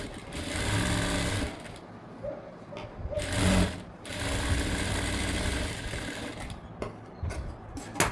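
A sewing machine runs steadily, stitching the lining of a high-neck blouse. Its close mechanical whir keeps an even rhythm, with a couple of brief pauses and slowdowns along the way.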